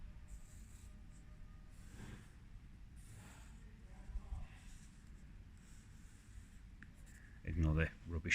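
Pencil scratches across paper while sketching a stand for a cylinder head, soft and continuous up close, with a louder rustle near the end.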